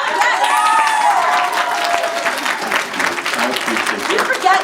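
A crowd at an Attack on Titan convention panel at NDK 2017 applauds with dense, sustained clapping, joined briefly by a few cheers and a voice speaking over it.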